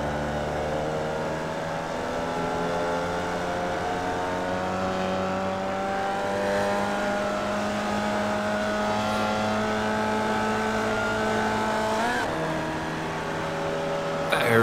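A Formula Vee race car in the iRacing sim at Summit Point accelerates hard, its engine note climbing steadily through the revs, with a brief shift blip near the end, loud and continuous.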